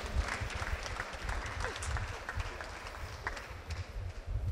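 An audience claps at a ministerial event, a dense, fairly faint patter of many hands that runs steadily throughout, with a murmur of voices underneath.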